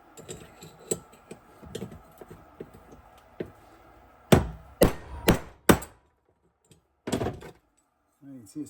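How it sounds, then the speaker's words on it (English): A hammer strikes to knock a bearing out of a broken wagon wheel hub backed with washers, several loud, sharp metallic blows in quick groups after quieter tapping. "Let's see if we can't knock that bearing out."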